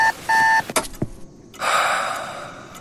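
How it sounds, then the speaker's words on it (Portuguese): An alarm clock goes off with a short, close electronic beeping pattern, followed by rustling and a broader swelling noise, with no talk. "Quando finalmente dorme, parece que o despertador tocou em seguida."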